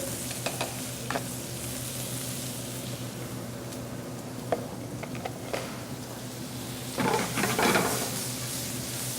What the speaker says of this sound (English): The mirepoix has to be just sweated off.